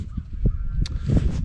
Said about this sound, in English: Geese are really flying this morning.